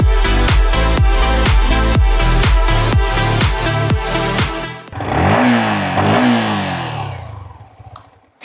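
A 150cc neo-retro sports motorcycle exhaust thumps in a loud, rhythmic idle, then revs up sharply twice and dies away to quiet.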